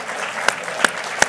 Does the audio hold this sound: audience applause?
yes